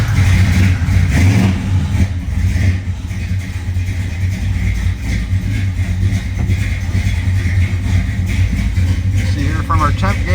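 A 1969 Plymouth GTX engine cold-starts and revs up loudly close by, then holds a rough, loping idle, with someone talking over it.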